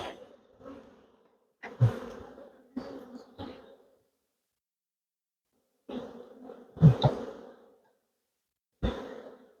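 Honey bees at an open farm apiary hive during a May inspection: intermittent close buzzing bursts as individual bees fly past the microphone, separated by silent gaps, several passes over about ten seconds.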